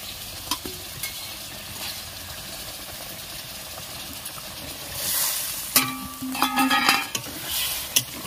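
Onion frying in a pan with garlic, dried chilli and cumin, a soft steady sizzle broken by sharp scraping stirs and clattering of a utensil near the end.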